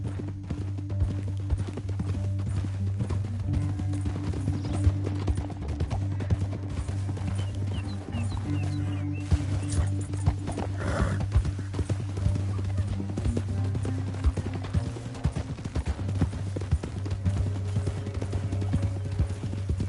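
Rhythmic horse hoof clip-clops plod along steadily in a Red Dead Redemption 2 canyon over a low droning hum, with brief faint sounds in between.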